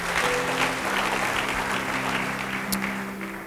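Congregation applauding in a church service, steady dense clapping from many hands throughout, fairly loud and close, tapering slightly at the end.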